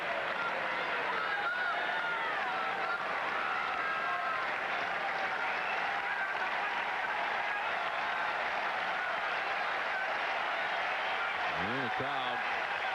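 Baseball crowd at a Cleveland at Boston game, a steady broad roar of cheering and applause sustaining throughout at an even level, with a brief rising whistle-like tone near the end.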